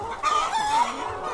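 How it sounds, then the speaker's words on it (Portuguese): Many laying hens in a poultry house cluck and squawk together in a dense, close chorus, with no talk. "Essa sinfonia toda mostra que tem muitas galinhas no aviário e que são destinadas à produção de ovos."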